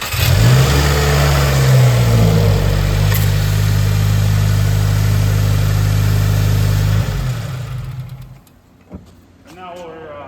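A 2019 Subaru WRX 2.0L engine starts after an oil change, with a loud close revving flare that settles into a steady idle before cutting off, followed by faint handling noises.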